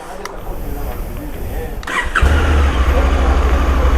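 A 2020 Honda Africa Twin motorcycle with manual gearbox fires up after a short crank, then settles into a loud, deep, steady idle close by.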